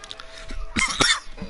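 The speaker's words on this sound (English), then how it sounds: "Excuse me, as I cough down the phone or the headset." Commentator coughing into a headset microphone during an online racing league broadcast, a couple of sharp, close, harsh coughs with throat clearing, loud and near the mic.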